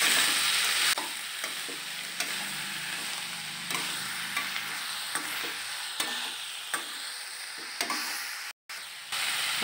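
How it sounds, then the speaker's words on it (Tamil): Boiled raw plantain for a fried varuval is stirred in a pan, with a constant hissing sizzle broken by repeated scraping strokes of a spatula, close and fairly loud. "அடுத்து வேக வச்சு இந்த வாழைப்பாவை போட்டுக்கலாம். எல்லாத்தையும் நல்லா மிக்ஸ் பண்ணிக்கலாம்."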